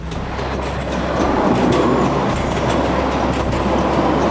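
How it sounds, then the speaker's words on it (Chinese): An Istanbul light rail train rolls along at steady speed, its low rumble and rattling wheels loud and continuous from inside the car, with no talking. "接着我们搭乘轻轨前往古迹林立的法蒂赫区"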